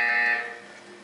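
A loud electronic buzzer sounds in the video game Portal 2, a bright harmonic tone that holds briefly and then fades out over about a second, with no talk over it.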